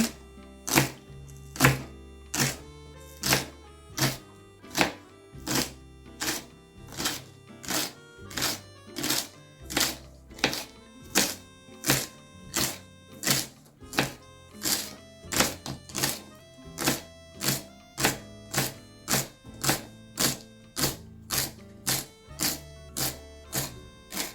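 Spring onions with their flowers being chopped with a knife on a cutting board, a long run of sharp, evenly spaced thuds, close and distinct, with a few quicker bursts of cuts and no talk.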